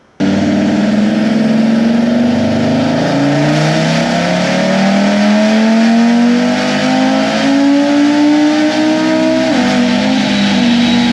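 A turbocharged car engine revs hard through a dyno tuning pull, a loud, sustained roar climbing steadily in pitch for about ten seconds before cutting off abruptly, close and alone with no talking.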